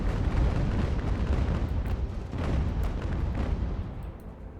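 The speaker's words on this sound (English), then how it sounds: "I didn't realize that the Bellona class ship is shooting at us. So we'll shoot back." Cannon fire rumbles from warships in a naval battle video game set in the American Revolution, with a sustained, heavy booming roar of broadsides that stays loud throughout and has no voices over it.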